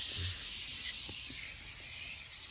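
A continuous hissing spray of Simoniz Carpet & Upholstery Cleaner onto a stained seat runs close and steady for a couple of seconds, with faint bumps underneath.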